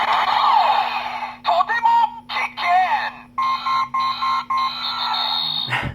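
A DX Mach Driver Honoh toy belt gives off a warning sound after its button is pressed: rising electronic beeps and warbling tones, loud and up close, ending in a brief burst.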